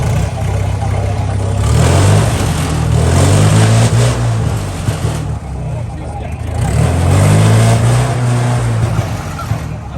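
A car engine revs hard through a loud exhaust at a tuner car meet, rising and falling in two long pulls, with voices talking over it.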